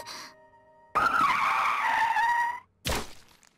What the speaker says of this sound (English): The truck barrels past the green light into the intersection, tires squealing harshly against the pavement as the driver slams on his brakes